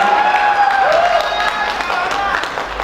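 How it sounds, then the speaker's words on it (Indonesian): Applause greeting Padang mayor Fadli Amran as he joins a young leaders' talk show at MCC Malang, a steady wash of clapping with a sustained tone and voices mixed in over it. "tepuk tangan yang meriah"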